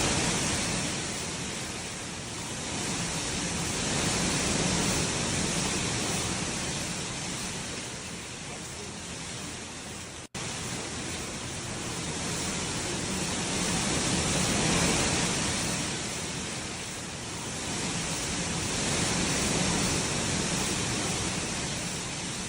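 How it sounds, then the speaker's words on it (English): Hurricane Milton's wind gusts roar steadily outdoors, broad rushing noise swelling and easing in slow waves with one brief dropout midway, loud and continuous with no talk. "Look at these wind gusts."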